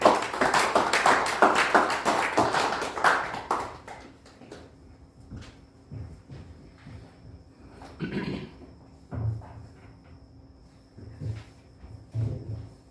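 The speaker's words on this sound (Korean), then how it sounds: "우리 박수로 김원중 선교사님 모시겠습니다" A church worship gathering claps to welcome a missionary speaker, with a few seconds of lively applause that breaks off abruptly, leaving scattered faint knocks and shuffles in a quiet room.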